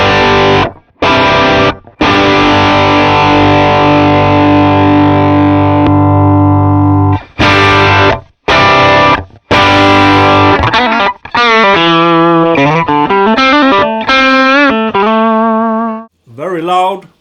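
Electric guitar played through the S-Gear Wayfarer amp simulator at its default setting, loud and driven with sustained distorted chords broken by brief stops, then a run of single-note lines with some echo.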